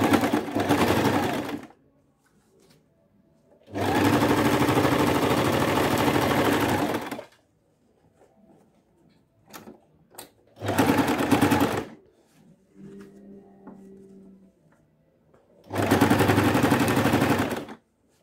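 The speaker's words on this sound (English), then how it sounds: "Start from the down and run your stitch." A sewing machine stitching bustier fabric in four long, loud runs of rapid mechanical clatter separated by quiet pauses with faint handling noises.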